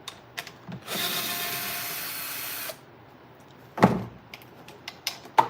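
Screw being backed out of a metal air duct with a ratcheting driver, a steady two-second whirring, clicking burst followed by a few sharp close clanks and taps.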